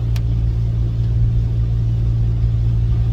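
Steady low road rumble of a car being driven, heard from inside the vehicle, with a constant engine drone and no voices.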